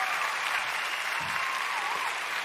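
An audience claps steadily throughout at the start of a talk-show taping, a dense, even wash of applause from a crowd at moderate distance.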